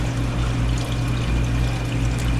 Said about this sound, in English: this bulkhead here is where the water gets pulled back in by this pump